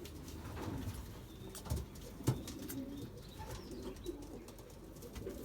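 Belgian racing pigeons coo softly in a loft, low murmuring calls with a few louder bursts and light handling noises in the background.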